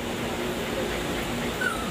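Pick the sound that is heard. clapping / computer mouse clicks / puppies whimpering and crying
puppies whimpering and crying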